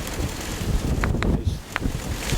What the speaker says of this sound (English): There's another gust there.